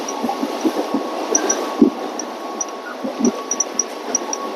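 A Mumbai local train, the Vihar MEMU, rumbles with a low steady drone, rhythmic clacks of wheels over rail joints, and faint high squeals, all heard from close by.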